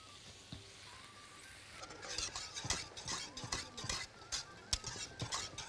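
Kishk cooking in a pot with meat and onions being stirred, giving a run of quick utensil clacks and scrapes against the pot over a faint sizzle. The stirring starts after a quieter opening, and no voices are heard.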